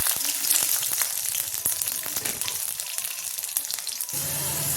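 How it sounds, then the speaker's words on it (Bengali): Garlic fries in hot oil in a pan, a close, steady sizzle with crackling pops and occasional stirring clinks throughout. "এবার ভেজে নেবো রসুন"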